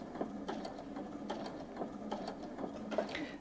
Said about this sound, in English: no matter how hard I press on the foot control now, the machine will only sew at its slowest speed